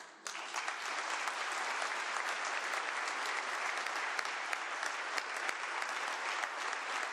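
Sustained applause from an audience at Washington Governor Jay Inslee's final State of the State speech, a dense, even wash of many hands clapping that holds steady throughout, with no voices over it.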